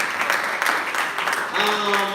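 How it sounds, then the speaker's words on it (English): A seminar audience on praedial larceny applauds Mr. Malcolm, a police inspector, with continuous moderate clapping from many hands while a voice carries on over it. "Give Mr. Malcolm a round of applause,"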